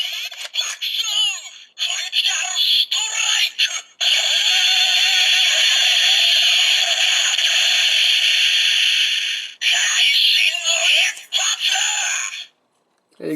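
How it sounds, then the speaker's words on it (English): Kamen Rider Bakusou Bike Gashat in the Kimewaza Slot Holder toy firing its critical strike sound, loud, close electronic bursts and a long sustained blast through a small plastic speaker, ending abruptly. "You got the BAKUSOU critical strike."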